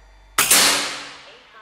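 A single sharp, loud report from a Bocap Gorilla 500cc full-CNC air rifle firing a slug, with a ringing decay.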